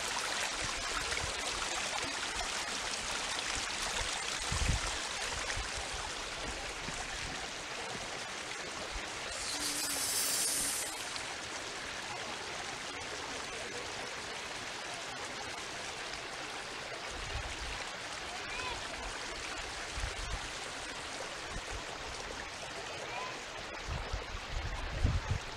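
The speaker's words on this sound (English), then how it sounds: "I want you to listen to the sound of the water." A cold mountain stream flows steadily, a broad continuous rushing and burbling of water close by, with a few soft knocks and brief handling noises along the way.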